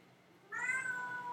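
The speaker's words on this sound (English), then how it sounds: "My cat is being needy." A house cat meows once, a clear drawn-out call that rises and falls over a quiet indoor background, close to the listener and alone without talk.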